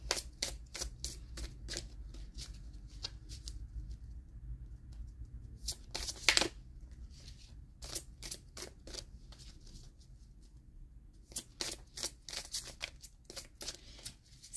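Oracle cards shuffled and drawn from a colour oracle deck, a long run of rapid crisp riffling flicks with a brief pause mid-way before the fast snapping resumes, close and fairly quiet, no talk.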